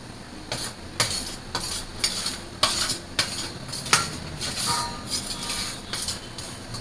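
Metal utensil scraping and clinking against a cooking pot while fish curry is stirred, a steady series of close, sharp scrapes and taps repeating roughly every half second over a low kitchen hum.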